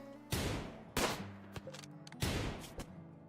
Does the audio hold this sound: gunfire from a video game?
yes